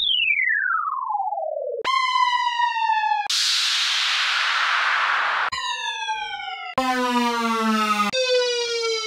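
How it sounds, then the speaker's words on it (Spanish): Synthesized downlifter and riser effects for music production play one after another: a smooth falling tone sweep, then bright buzzy sustained tones broken by a loud rushing noise burst, all loud and close with abrupt cuts between sounds. "Estos son varios y son efectos de sonido, downlifters, efectos de caída y efectos de subida."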